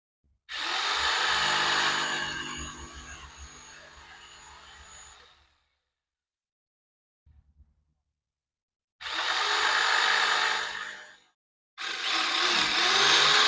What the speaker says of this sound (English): We'll be using a jigsaw, the metal cutting blade.